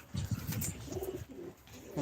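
Male pigeons let loose in a loft give low, soft cooing murmurs, a few overlapping rolls near the microphone against faint background noise.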